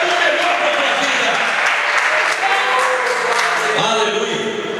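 A church congregation claps and applauds steadily and densely throughout, a loud continuous wash of hands at a Brazilian church service, with voices mixed in underneath.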